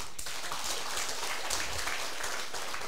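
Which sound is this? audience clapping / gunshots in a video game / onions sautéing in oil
audience clapping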